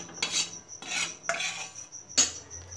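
A metal spoon scrapes roasted flour out of a hot pan onto a plate in four rough, rasping strokes, close and clear with no voices.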